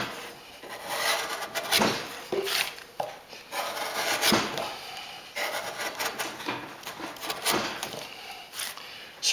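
A hand gouge scrapes and chips at wood while carving out a wire harp soundbox, giving repeated close, rasping strokes in an uneven rhythm, with no mallet used.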